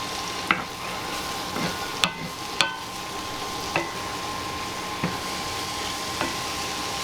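Mushrooms frying in butter in a pan give a steady broadband sizzle, with sharp utensil clicks and stirring knocks recurring every second or so.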